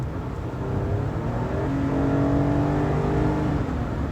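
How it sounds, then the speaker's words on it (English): Cabin engine sound from a 2016 Toyota Avalon with its V6 under firm throttle: a steady, loud drone and whir that builds as it accelerates, and a rising tone emerges midway. No talking. "I'm going to go ahead and get into the throttle to see how responsive this transmission and engine is."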